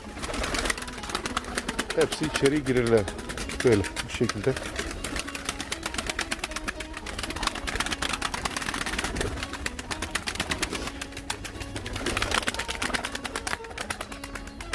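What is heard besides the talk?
pigeons cooing in a pigeon loft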